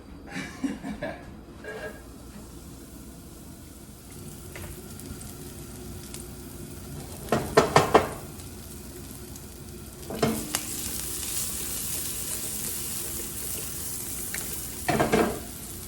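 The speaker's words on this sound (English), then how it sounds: "The very first ingredient that I like to put into the skillet, because I like to saute it a little bit at first, is my fresh garlic." Fresh garlic sautéing in a skillet for a scrambled egg breakfast gives a steady close sizzle, with a few louder bursts of stirring and pan clatter around the middle and end.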